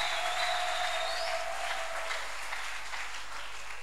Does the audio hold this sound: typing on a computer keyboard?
no